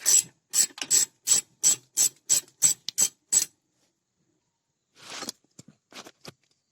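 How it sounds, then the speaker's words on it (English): A spanner loosens bolts on a Toyota Roomy brake. About ten evenly spaced ratcheting clicks sound close up. After a pause come a few scattered metallic scrapes and ticks. "Use a second spanner to hold the inner part of the barrel and loosen."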